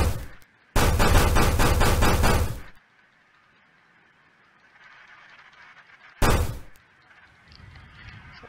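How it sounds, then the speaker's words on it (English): A hammer bangs on car parts in the garage game My Garage: a long burst of rapid metallic strikes, then quiet, then a second short loud burst of blows. "going around here swinging the hammer everywhere"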